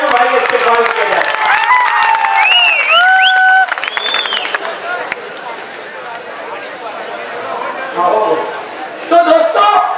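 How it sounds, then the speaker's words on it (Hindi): Crowd applause at a public stage gathering welcoming a community leader, broad clapping mixed with cheers and raised voices, with chattering and an announcer's voice sounding over it before the noise settles into murmuring and swells again. "मैं चाहता हूँ तालियों के साथ जैनू भाई इस्तकबाल किया जाए।"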